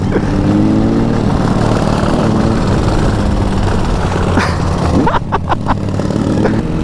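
A Dnepr MT motorcycle rides along with a loud, rough engine drone that holds steady and then shifts pitch near the end, with brief sharp sweeps as the revs change, heard close up.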